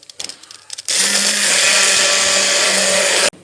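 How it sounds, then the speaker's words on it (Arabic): Electric mixer whirring loudly and steadily as it beats chocolate cake batter, switching on after a second of quiet clatter and running for a couple of seconds before stopping. "نشدو الميكسور تاع لو بغا ميكسور تاعنا ونقعدو نخلطو"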